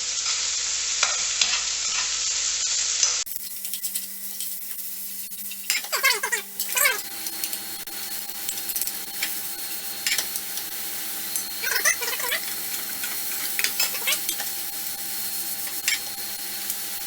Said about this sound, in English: Stir them around a bit with the spoon to break them up